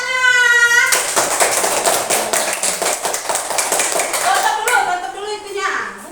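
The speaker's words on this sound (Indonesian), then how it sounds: "Tepuk tangan." Classroom children clapping hands together in a rapid, continuous patter of claps, with an adult's voice over the start and children's voices mixing in toward the end.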